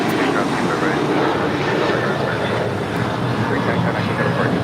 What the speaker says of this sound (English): This is Alaska Airlines Flight 310 taking off to Washington Dulles on a 737-800.